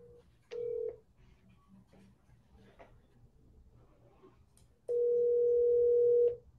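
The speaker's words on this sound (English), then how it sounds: "All right, dialing." A telephone line plays a steady dial tone and then a string of dialing tones, each a sustained tone with quiet background noise between them, close and clear with no talking.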